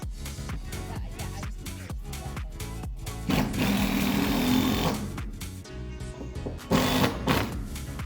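A power driver sinks 3-inch screws into 2x6 boards on an outdoor tortoise pen, rattling in rapid bursts with loud whirring stretches between short pauses, close to the listener.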